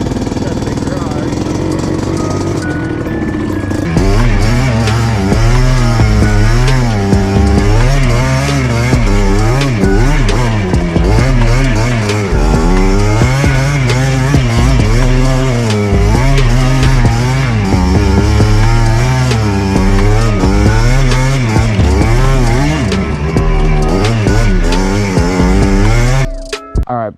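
A 1988 Yamaha Blaster two-stroke ATV engine idles and revs loudly and steadily after the choke is switched off while it warms up in a garage, running continuously for nearly the whole stretch before cutting out at the end.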